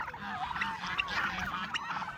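Turkeys call in a noisy cluster of honking, gobbling cries, several birds overlapping close by with no one speaking.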